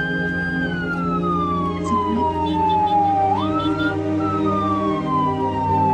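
An ambulance siren wails steadily with long rising and falling tones, loud and close, over a constant low engine rumble.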